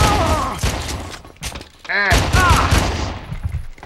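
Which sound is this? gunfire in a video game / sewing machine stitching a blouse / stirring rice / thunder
gunfire in a video game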